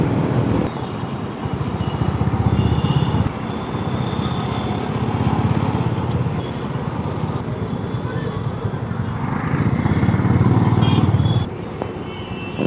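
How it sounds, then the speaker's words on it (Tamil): Steady roar of Bangalore city road traffic with passing engines and a motorbike or two, continuous and fairly loud throughout. "இப்போவே பாருங்கள் எந்த அளவுக்கு டிராஃபிக் இருக்குது."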